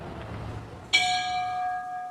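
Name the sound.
memorial bell ringing at Mexican consulate in Orlando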